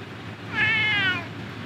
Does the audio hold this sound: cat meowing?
yes